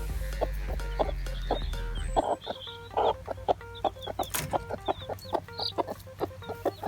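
A Hungarian naked neck hen clucks steadily, close by, among her chicks, with soft repeated clucks and higher peeps, over a low background hum that cuts out early.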